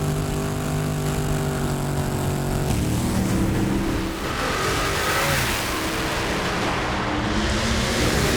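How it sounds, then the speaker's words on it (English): Drag racing cars roaring down the strip at a sportsman event at the Lucas Oil Nationals in Brainerd, Minnesota, a loud sustained engine blast that swells and fades as they pass, with no talk. "cylinder out late almost cost Croft, but he crosses the finish line first"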